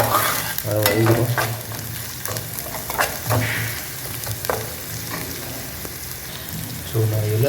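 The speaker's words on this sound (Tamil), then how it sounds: "இதோட மசாலா போட்டு நல்லா இது பண்ணுவேன், ஃப்ரை பண்ணுவேன்." Onions frying in a pan with masala and salt, sizzling steadily while a spoon stirs and scrapes in repeated strokes, close and clear, with brief soft speech now and then.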